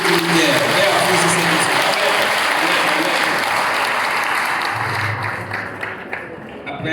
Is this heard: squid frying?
no